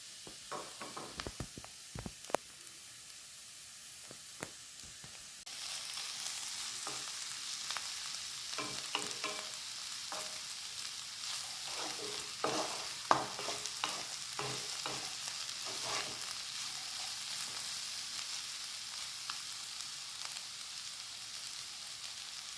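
Clove beans and onions frying uncovered in a pan, a soft steady sizzle broken by repeated scraping and stirring knocks from a spoon, faint and close with no voices.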